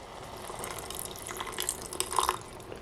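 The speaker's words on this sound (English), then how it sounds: "I'm going to add a little bit more water." Water pours into a pot of lentils on a small 280-watt mini hot plate, a soft close splashing and trickling that swells briefly near the end, quiet, with no speech.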